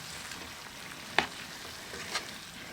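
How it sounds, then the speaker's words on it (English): Venison browns in a pan with a steady, close frying sizzle, broken by two brief sharp crackles or pops, no voices. "Meat's browning."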